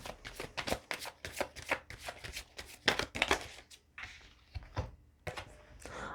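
Tarot cards being shuffled and riffled in quick bursts of crisp, papery flutters with short pauses, several cards jumping out, close and clear, no talking.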